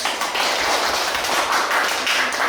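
An elementary school class breaks into brisk, continuous clapping, a dense patter of small hands that holds steady for a few seconds.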